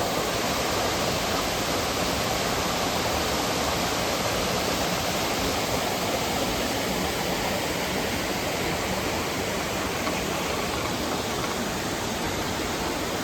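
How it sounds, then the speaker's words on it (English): A mountain stream at a hiking trail's water crossing rushes steadily with broad, even white-water noise, close and constant throughout, with no voices. "Not a bad water crossing."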